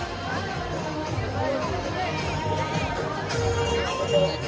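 Large crowd of devotees at the Vadala village fair on Ashadhi Ekadashi, a dense continuous hubbub of many voices with occasional shouts rising above the steady babble.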